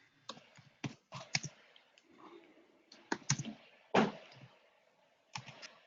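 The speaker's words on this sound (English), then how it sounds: "I was typing an email to Dean." An email typed on a computer keyboard, scattered bursts of close, crisp key clicks separated by short pauses, heard alone without talk.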